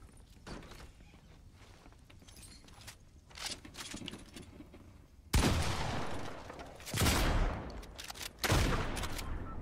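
Several heavy shotgun blasts in Fortnite boom close and loud in spaced bursts, following quieter clicks and shuffling sounds from weapon handling and movement.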